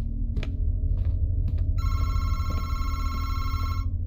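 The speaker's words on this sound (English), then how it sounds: "Oh man, I got a phone call." A telephone rings in the horror video game Madison, a few short electronic tones and then a steady shrill bell-like ring lasting a couple of seconds, loud and clear over a low ambient drone, with no talking.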